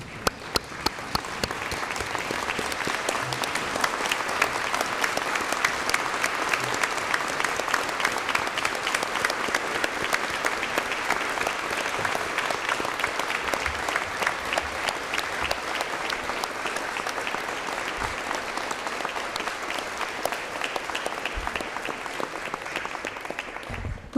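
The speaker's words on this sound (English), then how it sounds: "join us in one last round of applause to celebrate their" Sustained applause from an audience at a graduation ceremony fills a hall, dense steady clapping from many hands lasting over twenty seconds without a break.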